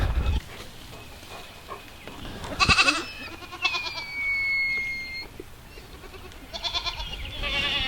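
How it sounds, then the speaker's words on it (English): Goats grazing out in a grassy summer pasture bleat in a few short, loud bursts spaced several seconds apart, with quiet outdoor ambience between the calls. "it's nice this time of year when the goats are out in the pasture and they're up to their stomachs in grass"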